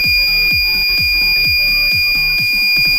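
An Arduino-driven buzzer triggered by a PIR motion sensor sounds loud and close as a continuous high electronic tone, with rapid rhythmic clicking pulses running beneath it throughout.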